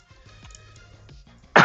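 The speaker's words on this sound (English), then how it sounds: "Sorry for the coughing." A few quiet throat-clearing coughs spread through a calm room, ending in one sudden loud, close, harsh cough burst.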